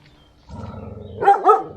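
A dog gives two short, loud barks close by, following a stretch of low rumbling background noise.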